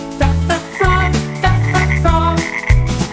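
Loud, repeated frog croaks in a steady rhythm, deep throaty calls layered with higher chirping notes, close and unaccompanied by talk.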